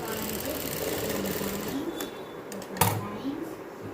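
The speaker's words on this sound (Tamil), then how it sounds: "லைனிங்கையும் மெயின் ஃபேப்ரிக்கையும் கிராச் லைனில் ஸ்டிச் பண்ணிகிட்ருக்கேன்" A sewing machine stitches the lining and main fabric of a child's circular palazzo pants together along the crotch line, running steadily close by with a rapid mechanical whir, then a brief clack and a pause.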